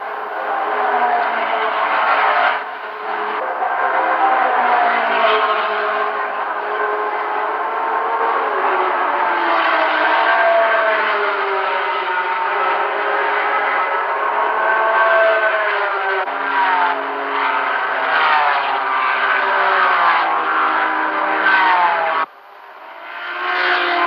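Race cars at the 1971 24 Hours of Le Mans, including a Porsche, roaring past in a loud sustained engine drone with rising and falling pitch from passing cars, briefly dropping away near the end.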